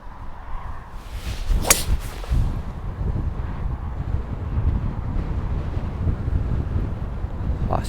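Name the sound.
strong wind on a coastal golf course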